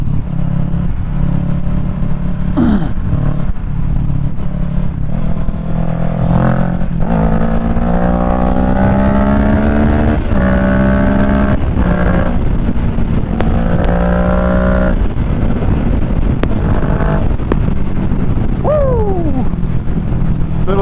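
A Kawasaki Ninja 650 riding at sunset in California, its engine climbing through rising revs in several accelerating pulls with gear changes between them, loud and close under constant wind rush.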